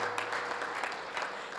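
Audience clapping at a Hindi kavi sammelan poetry gathering marking a 67th birthday, a brief, steady burst of many hands applauding together at moderate level, with no talk over it.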